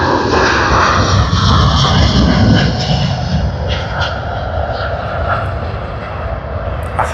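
A Malaysia Airlines jet at Sydney Airport roars loudly and close, its engines producing a powerful broadband rumble and hiss that peaks early and then eases slightly while staying strong.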